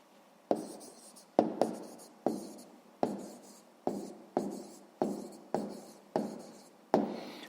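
Pen writing out an answer by hand for a sixth-grade maths exercise, in repeated short scratchy bursts of strokes with brief pauses between them, close and alone.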